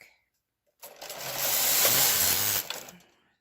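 A Brother KH940 knitting machine carriage slides across the full width of the knitting, a steady mechanical whir-and-clatter lasting about two seconds after a short silence, then stopping and fading out.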